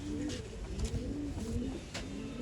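Old line pigeons coo softly and repeatedly at close range in a loft or coop setting in Bangalore, with low rolling calls over faint background noise and no speech.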